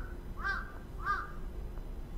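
A crow in the video game Tsugu No Hi gives two short caws about half a second apart. They are clear but moderately faint over a low background hum.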